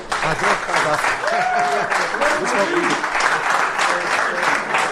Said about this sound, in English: Give a round of applause to Ma Welch, everybody.